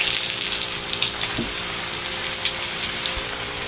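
Breaded potato cheese balls drop into hot cooking oil and fry with a steady, close, broadband sizzle and crackle, one brief thump from the pan near the middle, no talking.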